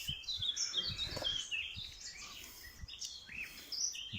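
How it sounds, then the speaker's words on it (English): Birds chirping outdoors, with bright high tweets and short calls repeating throughout, set against a steady light background hiss and a few soft low thumps. No one speaks. "The birds are pretty excited"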